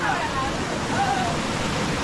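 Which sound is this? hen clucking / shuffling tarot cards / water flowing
water flowing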